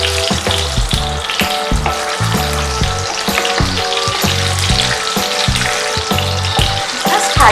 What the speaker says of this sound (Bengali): জাস্ট হালকা করে ভেজে তুলে নিই